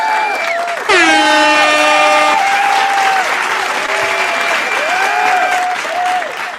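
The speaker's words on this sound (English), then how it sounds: "let me give you an applause." Loud crowd applause with cheering, mixed with blaring horn-like tones and swooping electronic effects that sweep through the sound for several seconds.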